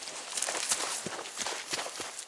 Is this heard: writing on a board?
no